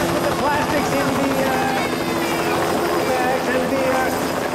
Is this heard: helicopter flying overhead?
yes